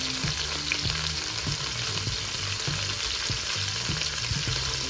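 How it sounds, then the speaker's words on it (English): Oxtail browning in an Instant Pot on the saute setting, a steady close sizzle with intermittent low knocks and scrapes as pieces are turned, no voices. "brown it in the Instapot on saute, normal setting, until it's brown on all sides"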